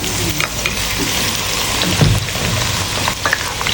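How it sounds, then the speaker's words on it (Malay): Sliced onions sautéing in hot oil in a wok for Banjar sweet-spicy chicken, a loud, steady, close crackling sizzle with occasional stirring scrapes throughout. "So kita nak tumis bawang yang kita dah iris ni tadi atau kita dah mayang."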